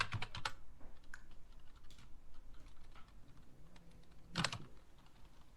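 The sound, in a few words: typing on a computer keyboard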